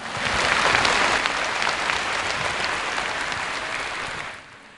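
Audience of about 500 citizens applauding at a public roundtable debate in Suwon, a dense, sustained clapping that swells early and holds steady before tapering off near the end.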